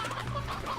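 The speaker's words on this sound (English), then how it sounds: "What I'll do is I'll just get some chickens and shove them." Chickens cluck in the Slime Rancher video game, a short burst of close, mid-loud clucking with no talking.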